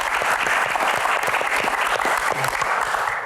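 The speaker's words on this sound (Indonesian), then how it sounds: "Tepuk tangan dulu buat Shirley." Studio audience of a televised Indonesian Q&A talk show clapping steadily and loudly, a dense continuous wash of applause with no voices.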